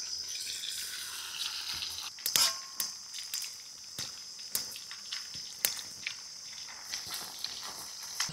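Red pomfret fish frying in hot oil, a steady bright sizzle running throughout, broken by sharp metallic clanks of a utensil against the pan.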